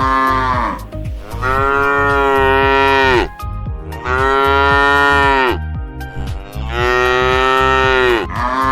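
Cattle at the historic Sagarika cattle market in Chittagong moo in three long, loud, close calls, each drawn out for about two seconds, with market noise filling the brief gaps between them.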